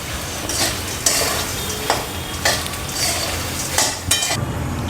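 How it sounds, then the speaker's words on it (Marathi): Puffed rice being dry-roasted and stirred in a pan for chivda, giving a rustling, scraping swish in repeated bursts about once a second, fairly close, with no talk. "आपण मुरमुरे पण तसेच भाजून घेऊ."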